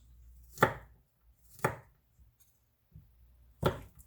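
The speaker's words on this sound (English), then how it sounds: "So just try to chop it up a bit." Knife chopping food finely on a cutting board for a spicy pork roast, four sharp, close chops spaced about a second apart in otherwise quiet surroundings.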